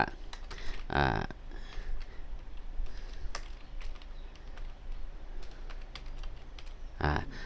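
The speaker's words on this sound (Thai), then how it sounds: "ตอนนี้เป็นภาษาไทยนะครับผมก็จะพิมพ์คาว่า" Thai text being typed on a computer keyboard into MS Word, a close run of light clicking keystrokes with a couple of louder clacks, over a soft background hiss, with no talking.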